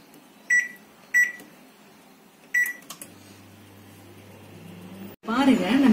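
A microwave oven set to 180 degrees Celsius for 30 minutes, baking an eggless banana cake, gives three sharp beeps, then settles into a low steady hum as it runs, before a voice comes in loudly at the end.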